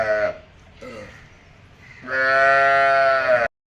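A Jersey cow that has calved twice moos at a dairy farm in Poovar, Thiruvananthapuram, with two short low calls followed by one long, loud, drawn-out moo, close by.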